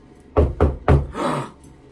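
Three firm knocks on a door in quick succession, loud and close, followed by a brief muffled rumble.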